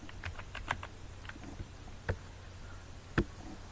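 Keys tapped on a computer keyboard in sparse, irregular clicks with a few sharper strokes, faint and close against a quiet room hum, no voice.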